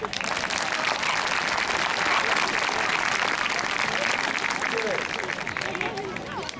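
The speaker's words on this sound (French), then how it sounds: "Hey, on applaudit." Spectators at a dog obedience demonstration burst into sustained applause, a thick, continuous wash of many clapping hands mixed with crowd murmur and voices, easing slightly toward the end.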